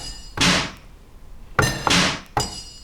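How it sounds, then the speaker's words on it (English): Kitchen utility sound samples of metallic clanks and knocks in a synth-pop track, three separate loud percussive hits heard alone at irregular spacing. "of course we have these kitchen utility sounds"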